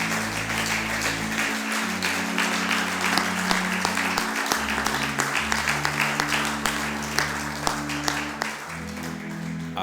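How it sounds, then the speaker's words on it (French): A church congregation claps and cheers for the Lord at a morning worship service, sustained dense applause running throughout over steady low music tones. "Est-ce que vous pouvez ajouter l'autre main et acclamer très fort le Seigneur?"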